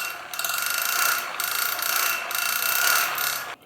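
Cheap hand-cranked coal forge blower rattling as it spins, a fast, continuous ratcheting gear clatter with slight pulses, close and moderately loud, no talking.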